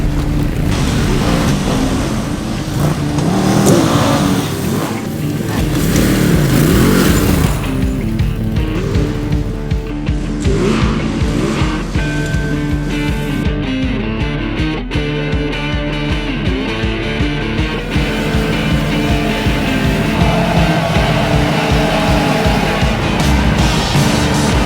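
A 110-horsepower Ducati motorcycle is ridden through trees in the Victorian High Country, its engine revving up and down continuously, rising and falling with throttle changes, loud and close throughout.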